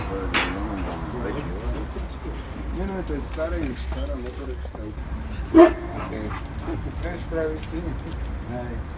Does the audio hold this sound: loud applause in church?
no